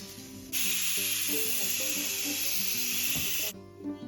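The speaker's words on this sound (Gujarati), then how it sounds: "સુવાની ભાજી વઘારું છું ને તો તેમાં તેલ મૂકી દીધું ને થોડું ઘી મૂકીશ 1 ચમચી" Dill greens hitting hot oil and ghee for tempering give a sudden loud, steady hiss that lasts about three seconds before cutting off, with a tonal background tune running underneath.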